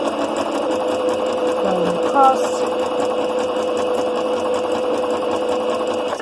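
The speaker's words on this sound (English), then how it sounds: "Now I am just zigzagging the edge of the seam" A sewing machine zigzag-stitches the edge of a dress hem in a fast, steady mechanical whir, close and loud, while a person speaks briefly over it.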